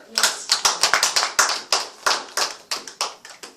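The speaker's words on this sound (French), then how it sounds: "Acclamons pour le Seigneur." A church congregation claps in a quick irregular rhythm, a string of sharp hand claps close by, with voices calling out over them.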